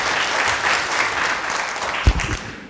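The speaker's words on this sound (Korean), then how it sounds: "여러분 큰 박수로 맞이해 주시기 바랍니다" Audience applause at a forum lecture event, welcoming the organisation's standing representative to the stage; a dense, steady wash of many hands clapping at moderate volume, fading slightly near the end.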